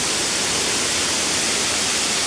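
Waterfall at Cunca Wulang near Labuan Bajo, a steady, loud, broadband rush of falling water with no other sounds.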